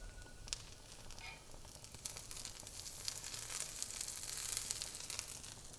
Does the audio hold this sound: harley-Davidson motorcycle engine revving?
no